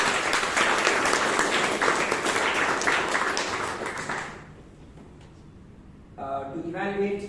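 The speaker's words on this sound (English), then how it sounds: "Let's give Toastmaster Pratik and DJ Rasi a good round of applause." A room of Toastmasters club members in Bangalore gives a round of applause, dense clapping that holds strong for about four seconds, then fades out, followed by a voice speaking.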